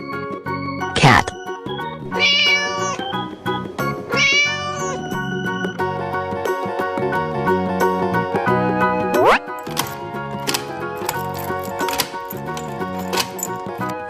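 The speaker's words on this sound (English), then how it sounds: "Cat." A cartoon cat meows in a children's animated animal video, short bright calls standing out clearly over a steady background music track.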